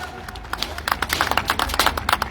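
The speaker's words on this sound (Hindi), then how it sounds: "इनके लिए भी जोरदार तालियां" A crowd at a large company product-launch event claps for its state managers in a quick, uneven patter that swells midway, heard from a middle distance over a low background hum.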